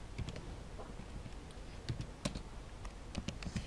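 Keys tapped on a computer keyboard while writing a C program, quiet irregular clicks in short bursts, close and faint.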